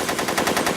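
Gunfire in a movie scene comes as a rapid machine-gun burst, loud and dense with evenly spaced shots in under a second and no talking.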